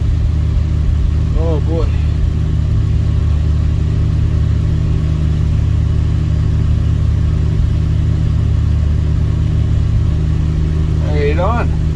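A Dodge D100 truck idles right after a cold start at night, a loud, steady low engine drone that runs throughout, with a voice briefly heard over it near the start and end.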